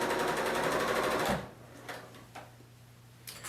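A Bernina L890 serger stitches fabric in a fast, loud mechanical whir that stops abruptly after about a second and a half, followed by quiet handling clicks and rustles.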